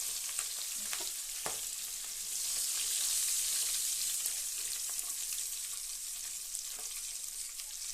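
Onion frying in oil over whole spices, a soft, steady sizzle with faint crackles and occasional stirring taps.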